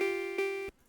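Single sustained synth lead note from Serum with no unison or hyper detune, a clean steady tone that briefly re-attacks midway and then cuts off abruptly.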